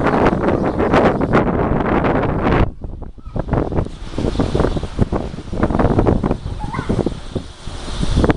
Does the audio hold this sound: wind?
yes